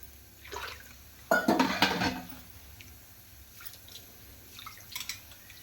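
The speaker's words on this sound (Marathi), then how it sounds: "मी अर्धा किलो तांदूळ घेतले आपला हा घरगुती कोलम तांदूळ आहे तर आता दोन वेळी धुवून घेऊया स्वच्छ चांगला" Half a kilo of homemade Kolam rice is rinsed in a pot of water, with a soft swish, a louder splashing stir in the middle and a few faint drips and clinks after, close and quiet.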